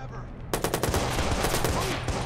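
A gun in Watch Dogs firing a rapid automatic burst, sharp repeated cracks starting abruptly and continuing loud and close for about two seconds.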